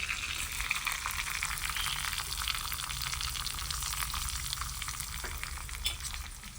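Curry leaves, green chillies and small shallots sauté in hot oil, producing a dense, steady, close sizzling hiss that holds unbroken throughout with no speech.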